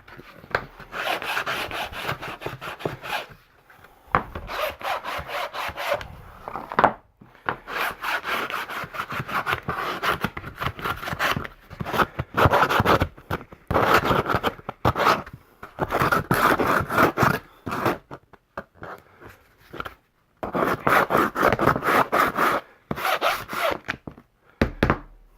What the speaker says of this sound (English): Now we can take a sanding block and knock off any loose pieces of sharp edges